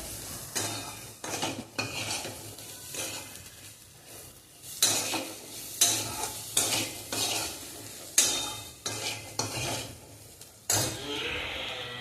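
Sweet corn stir-fried in a pan with salt and chutney, the spoon scraping and tossing in repeated bursts over a soft background sizzle, close and with no voices.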